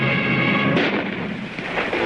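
Gunfire in a dramatic scene, a dense, rumbling burst of shots that swells and rolls like distant artillery, loud and continuous without clear separate cracks.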